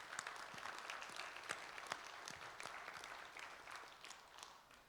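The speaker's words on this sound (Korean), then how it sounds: "하나님께 박수로 영광 올려드리기를 원합니다" Scattered, fairly faint applause from a church congregation during a Korean Sunday worship service, with individual sharp claps standing out over a softer wash of hands.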